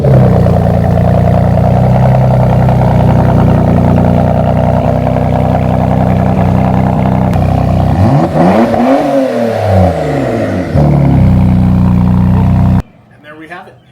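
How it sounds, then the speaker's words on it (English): A Porsche Macan Turbo facelift engine revs loudly and up close, rising and falling through several sweeping revs over a steady idle before cutting off abruptly near the end. "Let's give it a rev."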